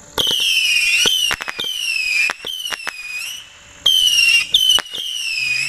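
Fireworks launched from a remote-controlled barge: repeated loud whistling screeches rising and falling, broken by sharp crackling pops and bangs, in bursts across the clip with brief quieter gaps.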